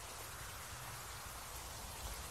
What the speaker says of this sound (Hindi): यहाँ पर हम ड्राइव कर रहे हैं, काफ़ी तेज़ और मूसलाधार बारिश हो रही है यहाँ पर।